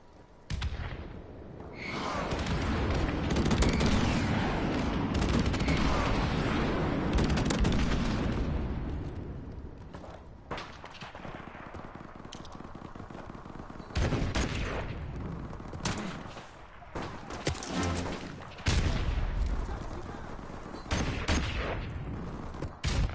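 A friendly airstrike in a video game: heavy booming explosions and sustained rattling gunfire, loud and close, first as a long continuous barrage and then as sharper separate blasts and volleys.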